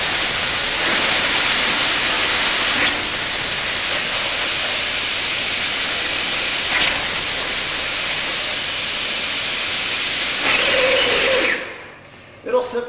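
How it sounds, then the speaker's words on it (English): Air-powered concrete fiber transport system running at 90 PSI, a loud, steady broadband hiss and rush of air that continues throughout and cuts off abruptly near the end. "Turn on the air valve."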